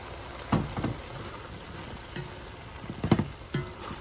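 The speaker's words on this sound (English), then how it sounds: "now I'm going to add the cooking wine" Cooking wine, about a quarter cup, goes into a hot pan for Cuban carne con papas, and a low sizzle follows with several sharp spatters and utensil clinks scattered through it.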